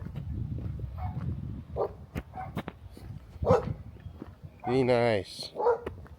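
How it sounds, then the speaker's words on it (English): A dog barks on a trek in the Peruvian Andes, giving a few short close barks and one longer, drawn-out yelping bark, with someone speaking briefly in between. "Stop the barking."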